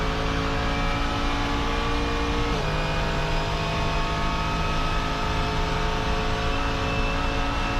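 A Mercedes GT3 race car at the Nürburgring roars in a steady, loud in-car drone, its engine pitch dropping sharply at a gear change partway through.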